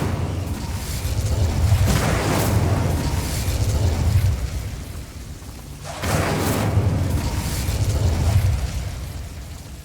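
Incendio fire spell cast in the Hogwarts Legacy video game, a roaring, rumbling whoosh of flame that swells and fades, then surges again midway, loud and continuous with no talking.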